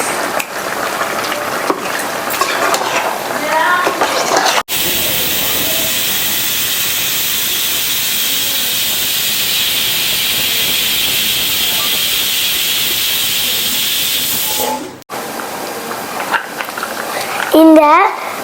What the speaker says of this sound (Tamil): சுவையே இந்த தேங்காய் பால் தான். இப்போ இதை ஊற்ற போகிறோம்.